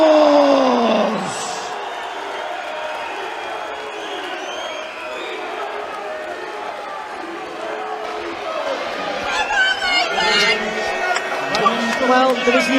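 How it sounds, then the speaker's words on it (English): Home crowd at a Grimsby boxing fight night roars and cheers, starting with a loud burst that eases into a sustained rumble, then swells again with whoops and whistles toward the end; an announcer's voice carries over the noise. "there is nothing quite like fight night when you've got an atmosphere like this, your home crowd all behind you"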